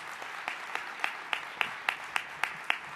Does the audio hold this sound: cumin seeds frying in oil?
no